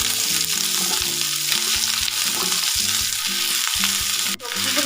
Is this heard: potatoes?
yes